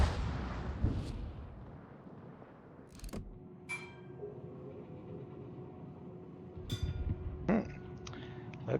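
Naval gunfire from warship guns in the World of Warships game, with several sharp loud shell firings and booms separated by quieter rumbling gaps.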